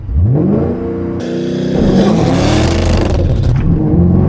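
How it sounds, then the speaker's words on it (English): A 5th-gen Chevrolet Camaro ZL1 with the supercharged LSA V8 launches hard from launch control, the engine revving loud and close, then dropping and climbing through rising pitch sweeps as the car accelerates, with no talk. "We should start off by doing the launch control."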